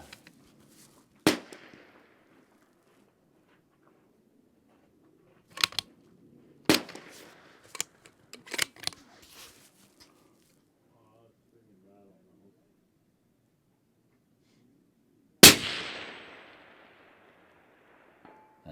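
An Accuracy International AT-X rifle chambered in 6.5 Creedmoor firing at a distant target outdoors: several sharp, loud shots spaced seconds apart with faint, delayed impact sounds and echoes, and quiet pauses between them.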